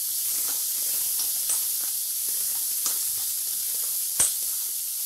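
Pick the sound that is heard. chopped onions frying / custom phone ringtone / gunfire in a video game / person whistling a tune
chopped onions frying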